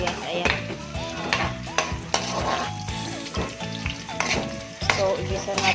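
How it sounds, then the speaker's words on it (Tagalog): Garlic and onion sauté in a hot pan for a pork and tofu dish, a steady loud sizzle broken by repeated scraping stirs of the spatula, with faint background sounds and no clear talk. "So gigisa na natin ang ating bawang, sibuyas"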